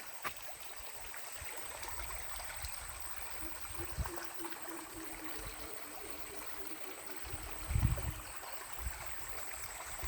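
Steady broadband water flow, a gentle rushing stream running continuously at moderate distance, with a brief low thump near the end.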